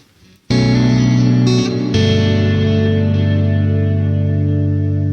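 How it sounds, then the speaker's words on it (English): A single sustained guitar chord rings out through the Neural DSP Archetype: Gojira reverb with shimmer off, a second strum layered in, slowly decaying into a smooth tail. "Let's turn that shimmer off for a second and just have a listen to the reverb."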